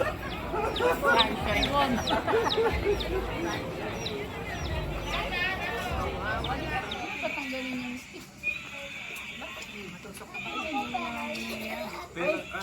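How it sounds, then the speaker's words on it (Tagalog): High, thin chick peeps chirp repeatedly among clucking fowl and a busy mix of voices in the Philippines, with more isolated peeping later as the crowd noise drops. "Ano name ng sisiw mo, Sian?"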